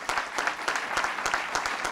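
A crowd applauds staff at a 1998 White House announcement of an HIV/AIDS initiative, sustained steady clapping from a sizable audience, fairly even and moderately loud.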